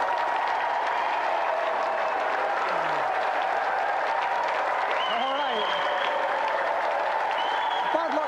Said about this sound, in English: Round of applause for East 17.